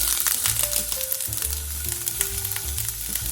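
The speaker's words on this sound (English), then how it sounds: "Saute the onion until soft" Sliced onion sautéing in oil in a fry pan over medium heat: a continuous close sizzle with scattered pops, heard under light music.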